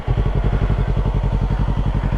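A motorcycle engine pulses at a low, steady, rapid thump as a beginner learns to ride, close and fairly loud without pause.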